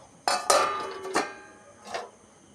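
A lid goes onto a cooking pan of okra and potato curry with a few sharp metallic clinks and ringing clanks, spaced unevenly, close and fairly loud with no talk.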